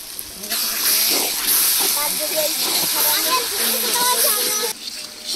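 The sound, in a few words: frying spice paste with bay leaf in a pan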